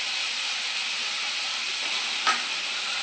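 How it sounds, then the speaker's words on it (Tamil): Broad beans sauté in a pan for a koottu with a constant close sizzling hiss, broken once near the end by a brief scrape of stirring. "பண்ணி வச்ச அவரைக்காவையும் போட்டு வதக்கணும்."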